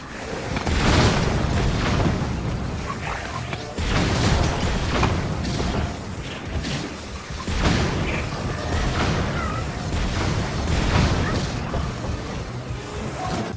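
Repeated heavy booms and crashing explosions from cannon blasts in Zelda: Tears of the Kingdom, loud and dense, one blast after another with rumbling debris.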